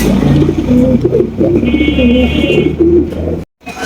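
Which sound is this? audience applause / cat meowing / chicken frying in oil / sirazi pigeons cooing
sirazi pigeons cooing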